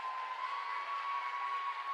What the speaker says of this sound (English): Bulldog fans cheering loudly for that miss.